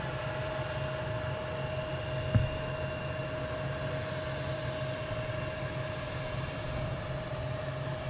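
A JetBlue Airbus A220 takes off at Boston Logan Airport, a steady broadband jet roar with a sustained engine tone holding evenly throughout, one brief thump near the start, no voices.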